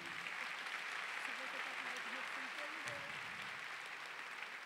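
A church congregation applauds at a Mass for Our Lady of Sorrows, dense steady clapping filling the room at a moderate distance while a priest's voice carries over it.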